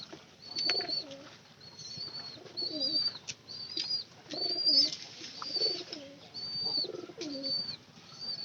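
Hungry pigeon chicks coo repeatedly in soft, short phrases, close by, with high chirps and an occasional flutter of wings mixed in.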